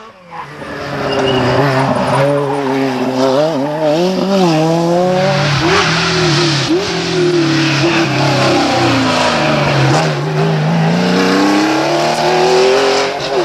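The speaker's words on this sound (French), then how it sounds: "C'est une autre 5 Turbo qui de toute façon prendra la 3e place en la personne de Mouchet" A Renault 5 Turbo rally car races along a stage at the Rallye de Saint Marcellin, its loud close engine climbing and dropping through rapid gear changes as it accelerates past, with tire noise beneath.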